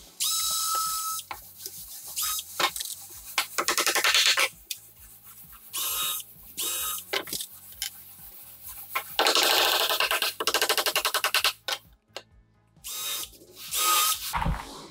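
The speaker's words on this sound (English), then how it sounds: "I'm going to pre-drill these. I don't want to crack this when I put a nail in it." A power drill whirs in repeated bursts, revving up and stopping, with clicks and pauses between runs, pre-drilling wood for nails; no talking.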